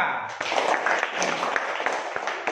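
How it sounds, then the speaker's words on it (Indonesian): A classroom group applauds group 2 during an Islamic studies lesson, a steady wash of clapping lasting a few seconds, with scattered sharper claps standing out from the dense patter. "tepuk tangan untuk kelompok 2"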